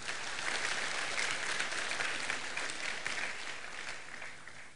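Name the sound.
loud applause from audience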